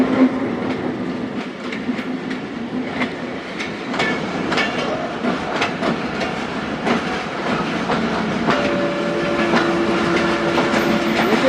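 Hazara Express passenger train pulled by locomotive 8311 departing in Pakistan, a steady rumble with rhythmic clickety-clack of wheels over rail joints, nearby and continuous, with faint wheel squeal late on.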